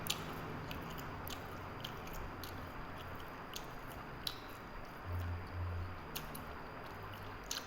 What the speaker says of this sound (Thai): แล้วกินกันเด้อครับ